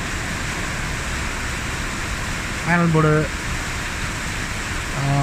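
Heavy rain pours down as a constant, loud, dense hiss that fills the whole stretch without a break, while someone talks briefly over it.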